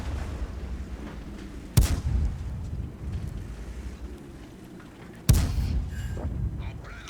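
Two heavy tank cannon shots in World of Tanks, fired at an M44 from a Bretagne Panther, each a sharp boom with a rumbling tail, spaced a few seconds apart over steady low battle ambience.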